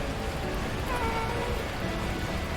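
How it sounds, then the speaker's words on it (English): Torrential rain pours in the Beacon Pines video game as a steady, dense broadband wash that stays constant throughout, with faint tonal game music or ambience underneath. "unleashing torrential rain"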